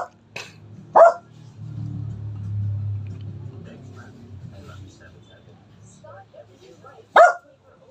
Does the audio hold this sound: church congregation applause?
no